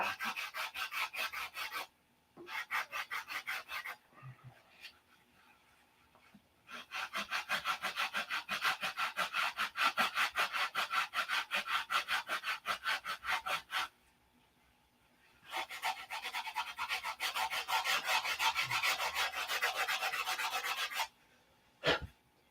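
A model airplane canopy on a 1/2A Cobra fuselage is sanded by hand in quick, regular back-and-forth rasping strokes, close and fairly loud, in several long runs separated by short pauses.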